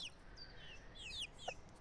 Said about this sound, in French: Petits poussins qui ont 1 mois à peu près.